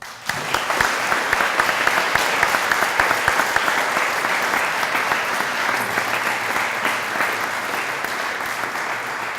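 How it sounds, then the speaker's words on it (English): Sustained, dense applause from an audience honouring a national championship college swimming and diving team fills the room, steady and loud for several seconds with no speech over it. "Can we just give them a round of applause?"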